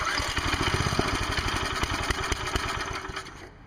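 A Briggs & Stratton 5HP small engine, primed with starting fluid and choked, sputters and runs with a rapid, rough, uneven firing rhythm before cutting out near the end.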